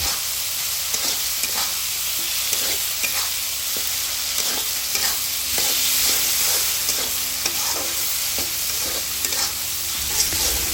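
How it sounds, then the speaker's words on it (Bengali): Cut potatoes being stirred and fried in spice masala, a loud continuous sizzle broken by regular scraping strokes of a spatula against the pan, close up and alone without any voices. "আলু দেওয়ার পরে নেড়ে চেড়ে বেশ কিছুক্ষণ সময় নিয়ে আলুটা আমাদের কষিয়ে নিতে হবে।"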